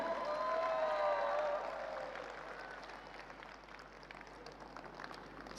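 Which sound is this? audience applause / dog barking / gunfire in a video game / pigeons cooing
audience applause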